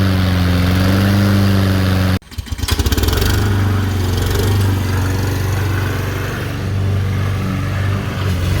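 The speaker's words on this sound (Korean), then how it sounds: "이거를 이제 잡아 당기면은 이제 엔진이 시동이 걸리는 이런 방식으로" A small pull-start lawn mower engine at an Australian house running loudly cuts out abruptly, then sputters and catches again, settling back into a steady mower-like drone.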